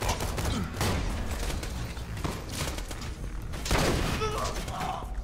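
Video game gunfire in Borderlands 2, with rapid bursts of shots and thuds in dense clusters and brief pauses, loud and close, mixed with game sound effects.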